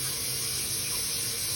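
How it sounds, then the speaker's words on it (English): Cold water runs from a kitchen tap in a steady, even hiss and splash, close and unbroken throughout, with no voices. "now I'm gonna get some cold water going."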